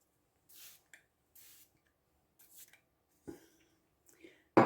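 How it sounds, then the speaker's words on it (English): A few short, soft spritzes of makeup setting spray misted onto a face, separated by brief pauses, close and quiet, followed by a couple of small taps and handling noises. "I'm just going to do a little spritz with my setting spray"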